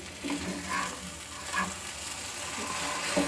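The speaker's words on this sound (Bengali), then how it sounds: "তাই আমি এটাকে ঝুড়ি ঝুড়ি করে ভেজে নেব" Spiced egg being fried in scrambled, crumbly shreds in a pan, a soft continuous sizzle with a few light stirring scrapes, close and steady with no talk.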